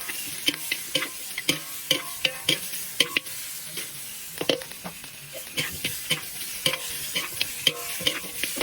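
Ingredients for braised pork leg being stir-fried in a pan, a soft background sizzle broken by frequent rhythmic scrapes and clinks of a utensil against the pan.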